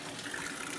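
A Whirlpool WTW5000DW top-load washer fills slowly with water in manual test mode, a faint steady hiss of running water with no voices.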